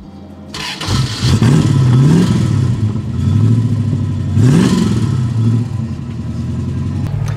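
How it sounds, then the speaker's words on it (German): A 1968 Jensen Interceptor Mark I with a V8 engine fires up and pulls away, giving a loud, close, rumbling growl that swells in two strong revs before settling into a steady drone. "Gut, dann fahren wir also mit unserem Jensen Interceptor"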